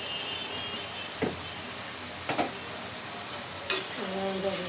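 Garlic paste fries with pieces of meat in a pan, making a steady low sizzle broken by three short scraping stirs of a spoon against the metal.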